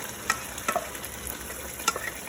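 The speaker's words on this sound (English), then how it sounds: "You want to be consistently stirring it because you don't want it to burn." Cooked tomatoes being stirred into Nigerian red beef stew in a pan make a low, steady sizzle and bubbling, with a few sharp scrapes and clicks of the spoon against the pan.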